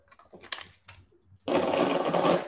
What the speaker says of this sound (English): Did you just blow your nose at a guy that whipped cream pie?